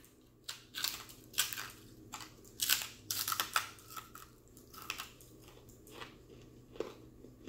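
Crunchy chicken served with spicy black bean noodles is bitten and chewed up close, producing a string of sharp crackling crunches in uneven bursts, loud against a quiet background with no talking.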